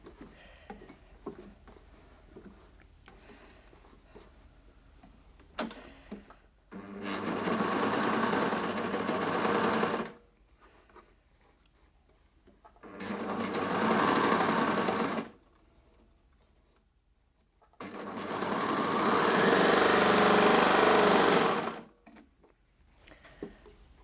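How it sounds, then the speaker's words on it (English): A coverstitch machine sewing shirring runs in three loud, close bursts of fast steady stitching, short then medium then longest, separated by pauses of quiet clicks and handling as the fabric is pivoted. "So a couple of stitches the other way, and then pivot round the other way."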